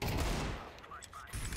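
In a first-person shooter game, a burst of rapid gunfire rattles loudly at the start, then fades under quieter game sounds before a short louder rise near the end.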